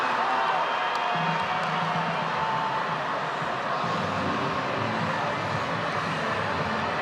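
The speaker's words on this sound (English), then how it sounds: "The crowd in St. Louis going absolutely bonkers for the ending of this game" A baseball crowd at Busch Stadium in St. Louis roars and cheers in a steady, distant wash of noise after a game-winning run, with an announcer talking over it.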